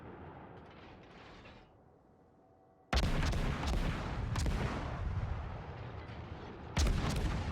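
A Benson destroyer in World of Warships fires its guns in sudden heavy booms, one loud volley after a quieter stretch and another near the end, with rumbling battle noise between.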